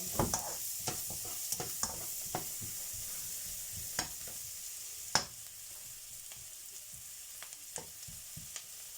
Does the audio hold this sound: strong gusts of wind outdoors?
no